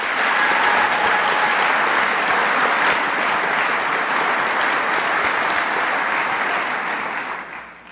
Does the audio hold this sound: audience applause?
yes